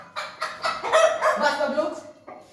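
A hen clucks in a rapid run of loud, close squawking calls, rising to a busy burst in the middle and tapering off, with faint human voices around it.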